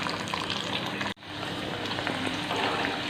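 Raw banana slices frying in hot oil in a pan, a loud continuous close sizzle with a brief sharp dropout about a third of the way through, then the bubbling sizzle resumes steadily.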